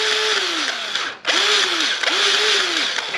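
A grease gun freshly loaded with a new tube pumps grease into a fitting on farm equipment. Three squeaky, whining strokes follow one another, loud and close, with no voices.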